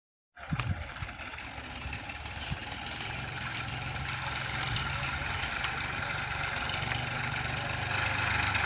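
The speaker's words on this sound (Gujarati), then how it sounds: "એ જો ટ્રેક્ટર આવે" A tractor engine approaching in a farm field, a steady low mechanical drone that builds gradually in loudness as it draws nearer, with no talk over it.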